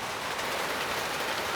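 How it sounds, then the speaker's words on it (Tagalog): Heavy rain pours down in a dense, steady hiss, loud and close, an unbroken wash of drops with no talking. "Ang lakas ng ulan, no?"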